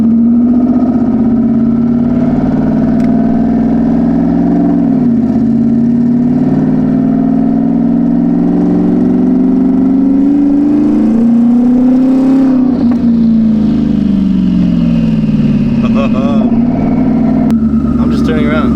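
A car engine accelerating under turbo boost, loud and close, its tone climbing and easing in long surges from start to finish, with voices talking over it.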